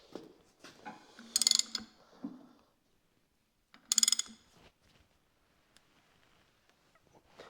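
A wrench ratchets a nut tight on the front axle of a Zetor 25 tractor, two loud bursts of rapid metallic clicking separated by a pause, then faint scattered ticks and taps.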